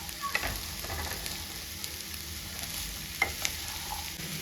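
Soft, steady stirring and scraping of a boiled chickpea vada mixture in a bowl, quiet and continuous with a couple of brief louder knocks, no talk.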